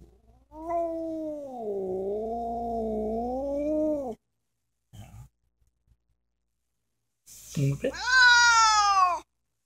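A house cat lets out two long, drawn-out yowls: a wavering low caterwaul, then after a pause a higher, louder rising meow. Both are close and clear, with a person speaking briefly in between.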